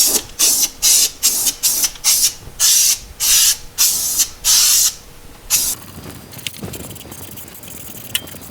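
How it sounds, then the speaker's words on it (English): Rubberized undercoating sprayed onto the rust-repaired front end of a Porsche 912 makes a quick series of loud, close hissing bursts, about a dozen short sprays in steady rhythm, then a few quieter scrapes and taps. "To make it all blend, I have some rubberized undercoating"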